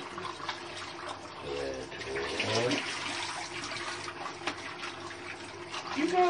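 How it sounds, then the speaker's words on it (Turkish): Tap water runs steadily into a sink while a fish is rinsed, a continuous close splashing wash with some shifting splashes, and a voice speaks briefly over it. "Balığımızı yıkıyoruz arkadaşlar."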